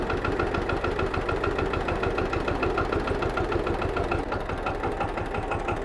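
An old tractor engine in Tasmania chugs steadily at idle, a rapid even knocking rhythm that runs continuously at close range.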